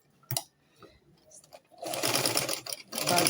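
Sewing machine stitching fabric bra cups together for a deep-neckline garment: a few soft taps and a brief voice come first, then a loud, steady run of rapid close-up stitching with a short pause near the end.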